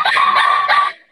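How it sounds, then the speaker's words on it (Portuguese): A small dog lets out a quick series of high, yappy barks, close and fairly loud, lasting about a second. "Tem uma cachorrinha aqui, aí tá fazendo barulho pra caramba."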